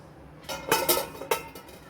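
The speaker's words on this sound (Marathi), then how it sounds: "आपण थोडंसं झाकण ठेवूया." A lid set on a pot of boiling thapavadi rassa gives a few close metallic clatters and clinks in quick succession, with no talk.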